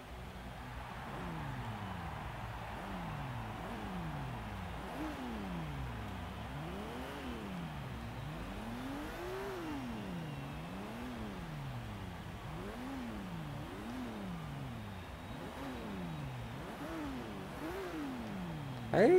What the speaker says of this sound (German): Hören wir mal kurz rein, was der Wagen so für ein Klangkonzert für uns abgibt